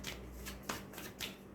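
Tarot cards are handled and set out in rows, producing soft, quick papery flicks and slaps up close in several short bursts with no talk.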